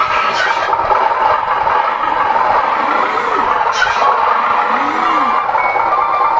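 A sound module on a handmade miniature Hino 500 RC truck gives a steady, loud simulated diesel engine rumble as the throttle is applied, with faint beeping tones under it.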